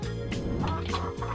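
A chicken clucking sound effect plays as a short, dense burst of hen-like clucks and throaty calls, loud and close, with no talking.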